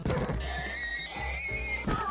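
A horse in a video game gives a loud, close, wavering whinny lasting about two seconds, with a brief thump at the start and end and no talk.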